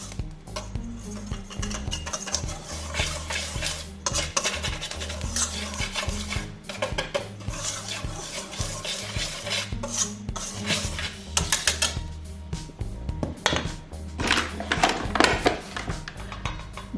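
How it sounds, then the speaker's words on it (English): Speculaas cookie dough ingredients are stirred and scraped in a bowl, giving continuous rasping, rubbing strokes with occasional clinks of utensil on the dish, close and irregular, with no talking. "mix it well."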